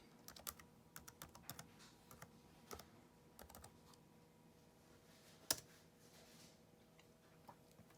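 A password being entered on a computer keyboard produces faint, close key clicks in quick uneven bursts with short pauses between them, and one sharper tap near the middle.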